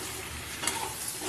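Meat being stirred and fried in a pan with onion, garlic and plenty of oil, a steady close sizzle with a brief scrape of the spoon, no talking.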